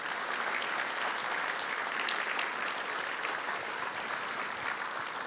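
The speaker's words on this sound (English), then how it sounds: "one final big, huge round of applause for everybody that came up here tonight and got an award and presented an award" Sustained applause from an audience honoring award winners and presenters at an evening event, a steady dense wash of clapping that holds at an even level throughout with no voices on top.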